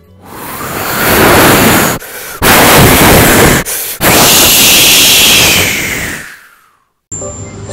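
Loud, roaring gusts of wind blasting in long rushing surges, cut by two brief gaps, then fading out near the end of the stretch.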